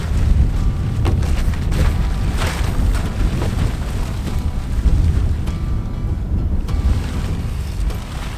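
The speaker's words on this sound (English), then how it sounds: "It's just so windy." Strong wind roaring across a microphone outdoors in a backyard, loud and continuous with buffeting gusts and rumble, no voices.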